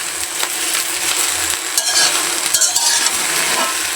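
Blended green chili paste fries down in a pan as its water cooks off, giving a loud, continuous close-up sizzle with stirring scrapes and no talk.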